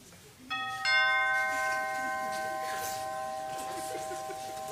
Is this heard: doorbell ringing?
yes